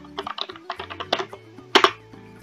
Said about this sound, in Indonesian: jangan dikopas, diketik aja